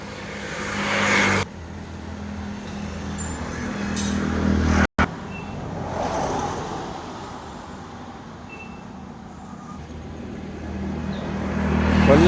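A car's engine and road rumble hold steady and fairly loud throughout, broken by a brief dropout near the middle and swelling slightly toward the end.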